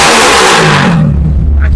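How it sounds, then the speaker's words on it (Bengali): A YCR-250RR motorbike engine turns over on a remote start, then settles into a loud, steady idle close by, with no talk. "আমি যদি এখন এই মুহূর্তে বাইকটা হচ্ছে রিমোট দিয়ে স্টার্ট করি, আপনারা একটু দেখে নেবেন।"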